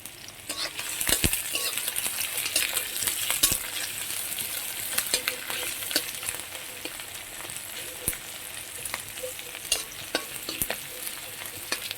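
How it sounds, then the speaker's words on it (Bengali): Chopped onions fry steadily in hot oil, a dense, continuous sizzle with occasional clicks and scrapes of stirring. "এখানে পেঁয়াজ কুচি দিয়ে দিলাম তেল দিয়ে।"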